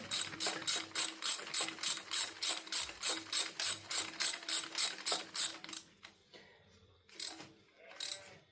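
A hand ratchet tightens spark plugs on a Nissan Qashqai engine, giving a close, crisp series of evenly spaced clicking strokes for about six seconds, then a pause and a couple of softer mechanical handling noises.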